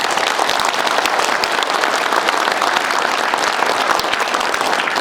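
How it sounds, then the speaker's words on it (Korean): Steady, dense applause from a lecture audience, loud and continuous with no pauses. "우리 이민복 씨한테 한 번 더 박수 보내주십시오."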